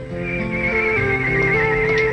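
A horse whinnies in a long, wavering neigh that rises and trembles for a couple of seconds, loud and close, with faint background rumble and no speech.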